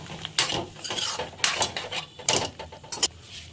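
A spoon scrapes and clinks against a pan as chicken and potatoes are stirred together, bursts of metallic scraping coming in irregular strokes, close and moderately loud.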